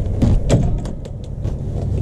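Top half of a Trailmanor travel trailer door swinging open outdoors, a short creak and knock of the hinged panel followed by light rattles and clicks, close and fairly loud, with no talking.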